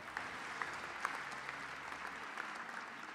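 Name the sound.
audience applause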